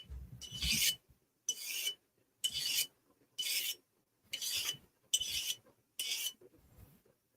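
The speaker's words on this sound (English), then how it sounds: "I'm sharpening my knife, my pocket knife." A foldable pocket knife being sharpened in about eight separate rasping strokes, evenly spaced and close, with quiet gaps between them.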